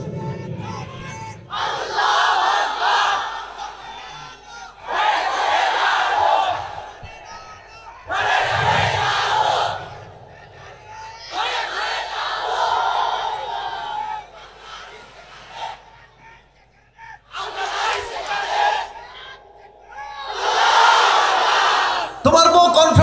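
At an Islamic waz mahfil, a crowd roars the takbir together in repeated loud, massed bursts separated by short pauses, with a voice heard between the shouts.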